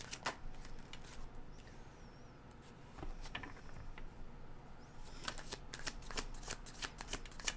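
Tarot cards shuffled close by in a series of crisp riffling bursts and light flicks, with short pauses between rounds and no voices.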